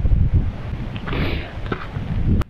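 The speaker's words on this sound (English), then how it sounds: "it's Haweswater Reservoir and it's a breezy day" Wind blowing on a breezy day beside Haweswater Reservoir in the Lake District, a loud low rumbling gust buffeting the microphone with a brief rustle, then an abrupt stop.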